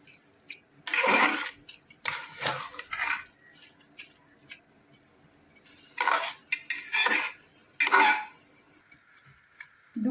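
Rice and lentils for khichuri are stir-fried in a pot. A metal spoon scrapes and clinks against the pot in short, separate bursts with quiet pauses between them, close by and fairly soft.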